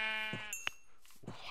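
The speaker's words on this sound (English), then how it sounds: "Sheep mayhem." Minecraft sheep bleating in quick succession: a loud, wavering bleat opens, followed by a sharp click and two shorter, fainter bleats, heard alone and fairly close.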